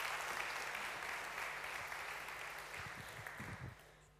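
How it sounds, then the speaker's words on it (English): Applause from a conference audience at an opening session fills the room as a dense, sustained patter that slowly fades toward the end. "Please give her a warm round of applause."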